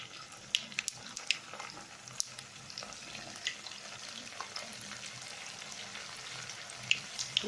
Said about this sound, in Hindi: तो ये चले फ्राई करते हैं। ये मैंने तेल गरम रखा हुआ है